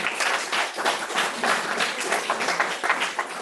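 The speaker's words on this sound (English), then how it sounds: "we should give you guys a round of applause." A small audience at a percussion trio's call-for-scores reading session applauds, giving brisk continuous clapping with uneven peaks throughout and no talk.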